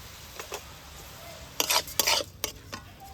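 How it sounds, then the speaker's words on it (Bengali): A spoon scrapes and stirs cabbage with ground spices in a pan, a few soft clinks and scrapes in quick clusters over a faint background hiss. "সব কটা খুব ভালোভাবে বাঁধাকপির সাথে মিশিয়ে নেব।"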